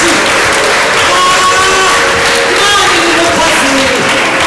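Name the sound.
congregation clapping in church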